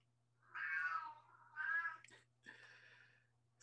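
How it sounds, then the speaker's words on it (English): A house cat meows three times at close range, with two drawn-out calls followed by a shorter one, over a quiet background hum. "my cat made me nervous because he meowed"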